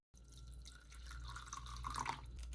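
Water is poured into a cup of instant ramen noodles, a continuous quiet trickle and splash that grows slightly fuller toward the end, with no talking.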